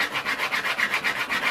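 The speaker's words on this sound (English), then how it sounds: "And you're sanding both the brass and the carbon fiber at this point." Hand sanding of a brass and carbon fiber model boat rudder, a close, steady back-and-forth rasp repeating in an even rhythm of about seven strokes, with no talking.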